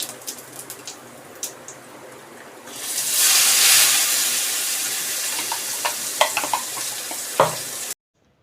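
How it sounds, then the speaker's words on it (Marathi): Mustard seeds and cumin crackling in hot oil in a kadhai, with onion and tomato added, sizzling loudly and steadily in the foreground with scattered sharp pops, rising to a fuller hiss partway through before cutting off abruptly. "कढईमध्ये तेल टाकलं त्यानंतर त्याच्यामध्ये राई आणि जिरे अगोदर तडतडवून घेतले आणि त्यानंतर ना कांदे आणि टोमॅटो बारीक चिरलेले होते"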